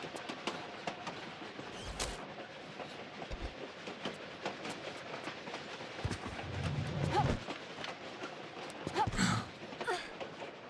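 A moving train in the game Tomb Raider: The Last Revelation rumbles and clatters in a steady rolling texture, with occasional sharp metallic clanks and low thuds breaking through, no talk.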